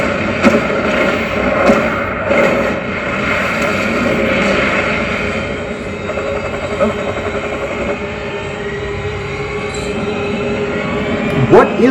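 A train in a dubbed South Indian movie action scene involving a helicopter chase, loud rumbling wheels and metallic rail noise with occasional squeals and thuds, under dramatic soundtrack.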